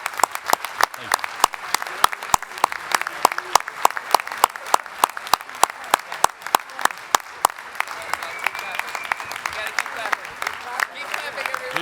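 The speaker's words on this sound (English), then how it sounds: "Keep clapping." Audience applause at an award ceremony, with sharp, distinct claps in a steady rhythm and a softer crowd clapping beneath, going on for several seconds.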